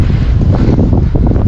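Strong wind batters the microphone outdoors while riding a GR4U motorcycle without its front wheel, a loud, continuous low roar and rumble that fills the whole moment with no talk.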